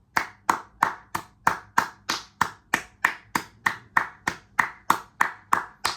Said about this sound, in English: We need to give it a round of applause to our African brothers, Cape Verde.